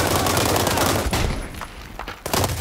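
Dense automatic gunfire rattles loudly in a free-to-play shooting video game, first in long sustained bursts, then thinning to scattered shots before a final burst.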